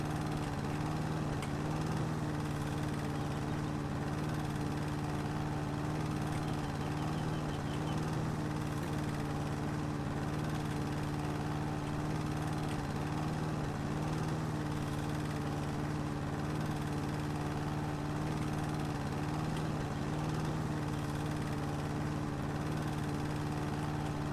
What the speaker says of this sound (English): you start to appreciate the lawnmower